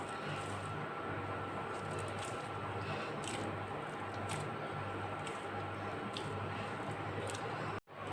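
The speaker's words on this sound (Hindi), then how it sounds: "बस आप मुक्की लगा के आटा गूंदेंगे।" Dough for crispy papdi is kneaded and punched by hand, producing soft repeated squishing and pressing sounds in a steady rhythm over a constant background hum.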